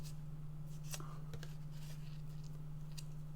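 Scissors snip through a length of ribbon in a few quick, soft cuts, faint and close against a steady low electrical hum.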